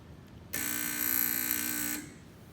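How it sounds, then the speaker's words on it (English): Spark timer buzzing as it marks paper tape with sparks: a single loud, steady electric buzz rich in overtones, starting abruptly and holding for about a second and a half before cutting off, with no talk. "something similar happens when you put the tape in the spark timer"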